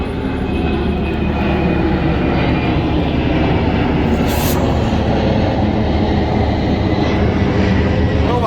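Airplane flying overhead near East Midlands Airport, heard from a canal boat as a loud, continuous broadband jet roar with a steady low rumble that holds throughout.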